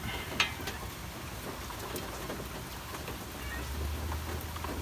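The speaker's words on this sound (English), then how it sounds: "As you can see, it's raining, so it's not gonna stop me." Steady rain falling outdoors where a 2009 Ford Flex is being worked on, a soft continuous hiss of drops on surfaces with one sharper tap near the start, fairly quiet and even throughout.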